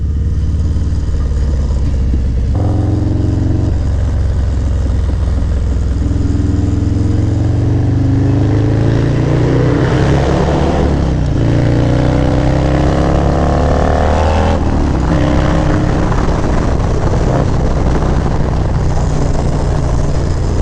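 Harley-Davidson Milwaukee 8 motorcycle engine with an S&S 475c cam and high-flow heads roars loud and continuous, its pitch climbing and falling through several revs with a deep, throbbing low end.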